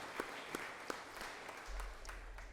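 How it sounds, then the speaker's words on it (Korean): A church congregation applauding during Sunday worship, a broad wash of clapping with a few sharper individual claps and a low rumble underneath. "큰 박수로 하나님께"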